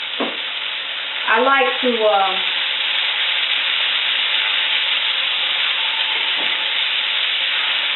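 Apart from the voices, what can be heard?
stirring diced food sizzling in a skillet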